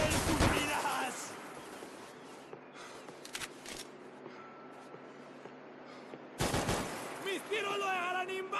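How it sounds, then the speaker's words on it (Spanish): Gunfire from the video game Max Payne 3, with a loud opening burst, scattered sharp shots through the middle and another cluster of rapid shots near the end, over a steady game background. "¡Mis tiros lo dejarán inválido!"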